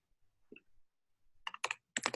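Computer keyboard typing in short clusters, a few soft isolated taps followed by quick bursts of crisp keystrokes, close and fairly quiet.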